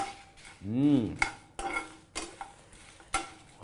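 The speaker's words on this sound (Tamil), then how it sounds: "இப்போ பாருங்க, இப்படி வதக்கிறோமா?" Ghee chicken sautéed in a pan, with metal spatula scrapes and clanks against the pan at irregular intervals over a soft sizzle, close by; a brief tonal whistle-like sweep rises and falls early on, no talk.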